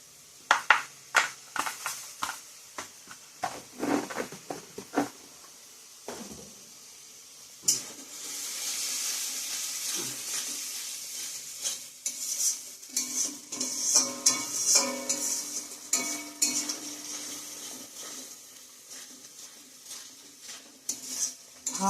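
Ground cumin, coriander and chili powders are fried and stirred in a cooking pan for a jackfruit curry. A spatula scrapes and knocks in uneven strokes, with a steady sizzle swelling through the middle. There is no talking.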